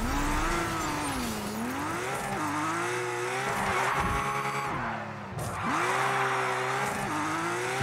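Vehicle engine roars continuously in the Destruction AllStars arena game, pitch sweeping up and down as it accelerates, with tires squealing through skids; loud, close and steady, briefly dipping near the end before surging again.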